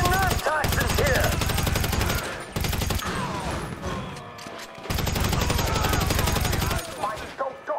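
Military machine-gun fire in GTA 5, long sustained rattling bursts, loud and close, broken by brief pauses, with a voice shouting over it.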